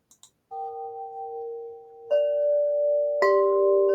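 Wind chimes strike three times, each struck tone ringing out long and sustained, the later ones layering over the earlier ones in a quiet space.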